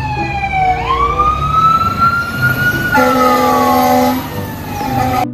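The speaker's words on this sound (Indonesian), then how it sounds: "truk tangga pemadam kebakaran" Toy fire engine ladder truck siren wailing on its own, the pitch swooping up then holding and stepping between tones in a loud electronic two-part pattern, close and continuous for several seconds.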